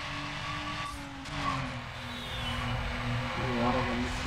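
A car engine races in the video game Need for Speed Underground, a steady motor drone shifting pitch with brief tire noise, heard faintly under a voice talking.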